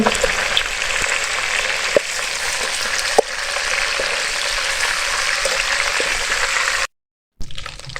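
Chicken frying in a pan for a chicken chana dish, a steady broadband sizzle with a few sharp crackles and pops, then a brief cut to silence before the sizzle returns. No one speaks.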